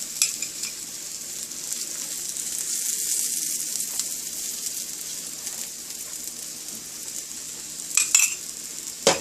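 A methi aloo paratha, a fenugreek and potato flatbread, sizzles steadily in oil on a hot pan after being flipped, a constant close frying hiss with a few light scrapes and clinks near the end.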